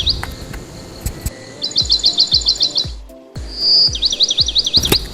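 A woodpecker calls in two bursts of rapid, high, trilled notes, with soft rhythmic low taps beneath and a short quiet gap between the bursts.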